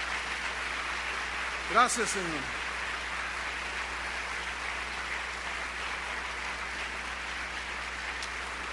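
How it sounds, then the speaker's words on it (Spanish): A church congregation applauds during a Spanish-language sermon, a steady, even wash of clapping that holds throughout. A voice speaks briefly over it near the start. "Denle un aplauso a Él merece un aplauso."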